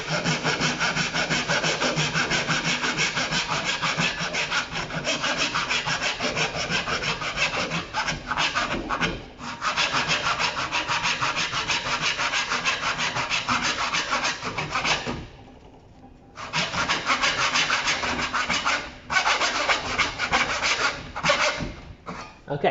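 A tenon saw cuts through wood in fast, steady, close rasping strokes that continue almost nonstop, with one brief pause partway through.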